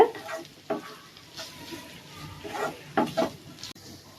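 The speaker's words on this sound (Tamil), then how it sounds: "இதை இதோட சேர்த்து நல்லா வதக்கி விட்டுருங்க." Onion, potato and mutton being sautéed in a pan for Chettinad mutton podimas, with faint sizzling under a series of soft scraping stirs and a few sharper clinks of the spoon against the pan.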